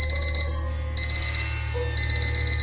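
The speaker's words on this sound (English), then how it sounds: "Oh no, that alarm clock!" A shrill electronic alarm clock rings in the video game Lullaby For An Electric Toaster, sounding three loud bursts of rapid beeping separated by brief pauses, close and alone.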